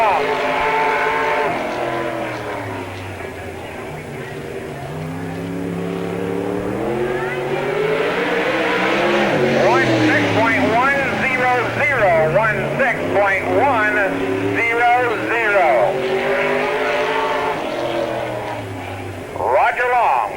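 Dirt track race car from the 36 machine with a Hickson engine circles Spoon River Speedway in Illinois at the 1998 Summer Nationals, its engine droning and rising through the lap beneath steady announcer commentary.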